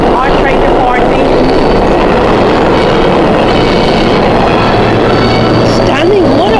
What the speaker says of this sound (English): R train departing.